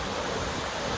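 Gokak Falls roars in one steady, loud broadband rush of water, a dense constant wash with no breaks and no voices.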